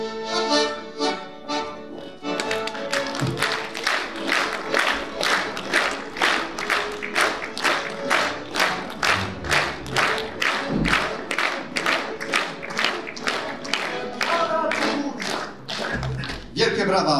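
Audience at a rural housewives' club contest of Silesian dialect songs claps in steady rhythmic unison after a sung number ends, the beat even and loud for many seconds before breaking into looser applause.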